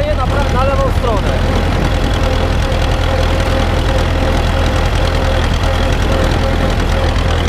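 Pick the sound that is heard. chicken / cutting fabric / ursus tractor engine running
ursus tractor engine running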